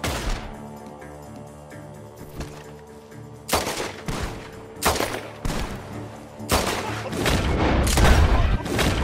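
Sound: gunfire in Red Dead Redemption 2 video game

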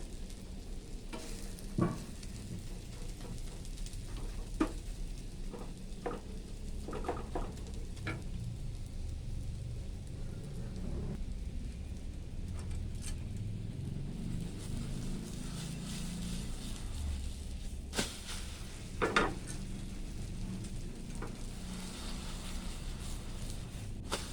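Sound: egg and cha-om omelette frying in a pan

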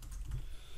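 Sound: typing on a computer keyboard

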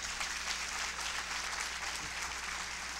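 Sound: audience applause

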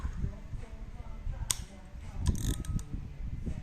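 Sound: Daiwa EX-1000 vintage spinning fishing reel cranked, ratchet clicking

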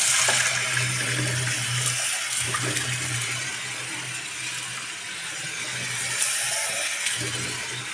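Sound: pouring liquid out of cooking pot

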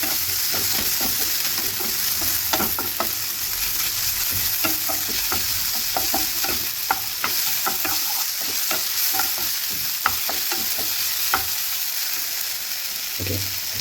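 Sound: greens sautéing in a pan

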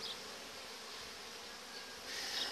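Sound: honey bees buzzing at a hive in an apiary

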